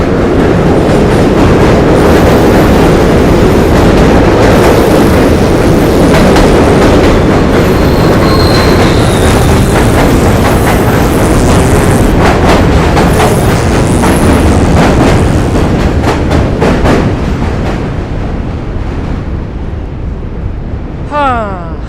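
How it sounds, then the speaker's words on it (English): A train rumbles loudly across a bridge on a New York walking commute between Brooklyn and Manhattan, with rolling wheel clatter and squealing throughout, easing off toward the end. "I think I hear a train coming."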